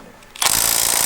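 A ratchet works loose a coilover top mount bolt, a sudden burst of fast metallic clicking that starts after a quiet moment and continues close and loud.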